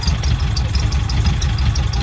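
Volkswagen Bay engine idling, a steady low rumble with a slightly uneven, lumpy beat that runs continuously and fairly loud throughout.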